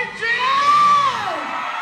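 A concert crowd answers with a single loud rising whoop and yelling that swells for about a second, then fades into lingering cheers.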